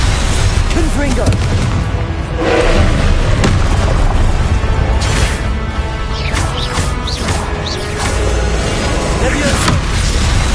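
Repeated Confringo fire-spell blasts in Hogwarts Legacy, a series of loud booms over dense, continuous battle noise with scattered impacts throughout.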